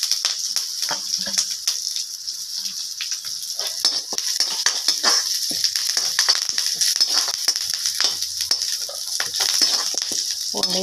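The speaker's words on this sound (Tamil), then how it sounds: "பூண்டையும் கருவேப்பிலையும் வதக்கிட்டு அடுப்பு ஆஃப் பண்ணிடுங்க." Garlic and curry leaves sauté in a hot pan with oil while idli podi is made, giving a continuous close sizzle with occasional stirring scrapes and no talking.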